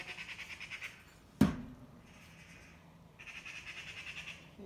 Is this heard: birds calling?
yes